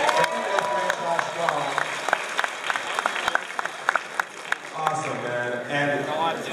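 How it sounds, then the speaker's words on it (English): A crowd at the 2018 Power Morphicon convention applauds itself with sustained clapping and scattered cheers, loud and close, and a voice speaks over the end. "Give yourselves a round of applause."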